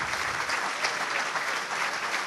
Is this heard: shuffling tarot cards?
no